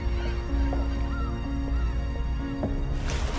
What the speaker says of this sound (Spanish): En el cielo pasaban bandadas de aves marinas.